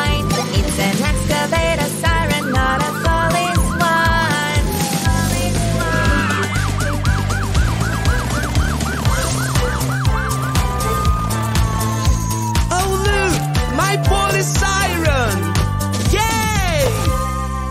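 A rising and falling police siren wail sounds over loud, busy music, looping steadily through the middle section.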